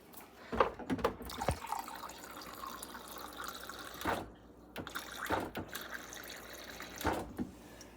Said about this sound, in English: you can see this fresh water, cold fresh water. Now I'm just gonna fill it